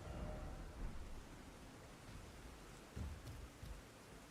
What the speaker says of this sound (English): I could have swore we had no rain when we were walking over here originally.